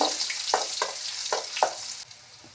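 Crushed garlic frying in a pan for garlic rice, a steady sizzle with several sharp crackles and spits at irregular intervals, close and bright with no voices.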